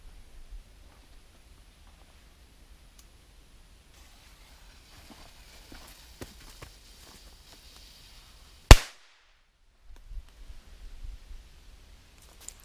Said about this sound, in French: je vais faire péter un pétard juste devant